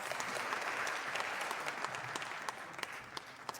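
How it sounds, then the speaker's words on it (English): A seated audience at a tech conference applauds a panel taking the stage, a fairly soft, steady wash of many hands clapping that holds evenly throughout. "Big round of applause, please, for Arjun and his guests."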